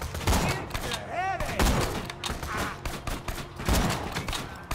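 Rapid gunfire in Borderlands 2 strikes the player, a dense close barrage of overlapping shots with game effects throughout, while a voice talks over the din.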